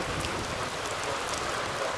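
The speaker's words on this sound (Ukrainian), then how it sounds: "Господь нам подарував цей дощ" Rain falls steadily in a dense, even hiss with a soft patter of drops on a surface, continuous and fairly close, with no voices.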